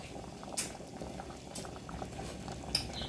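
A pot of bamboo shoot curry with mushrooms boils on the stove, giving a soft, steady bubbling and popping close by, with a couple of faint clinks and no talk.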